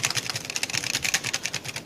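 Rapid, steady clicking of KB-R88 mechanical keyboard keys being pressed, close up and continuous with no talking.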